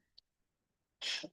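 A single sharp sneeze from a person at a school board meeting, brief and moderately close, after a near-silent room with a faint click.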